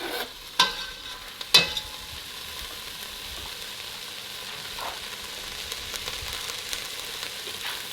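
Garlic sizzles in a pan, a soft, steady frying hiss throughout with two sharp utensil scrapes or clinks early on and faint stirring ticks later.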